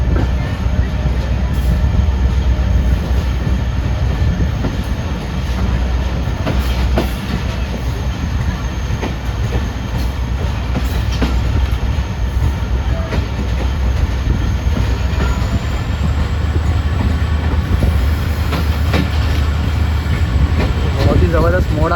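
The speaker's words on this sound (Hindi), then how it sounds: "रन पिटानी रेलवे स्टेशन से भी हमारी ट्रेन रवाना हो रही है" The 151UP Shah Latif passenger train departs Ran Pithani railway station with a loud, continuous rumble and rattle of carriages, wheels clicking over the rails and a brief squeal near the end.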